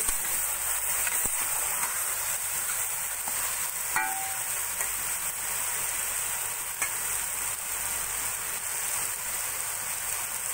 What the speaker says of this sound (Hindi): तोरियों को मैं थोड़ी देर फ्राई कर लूंगी।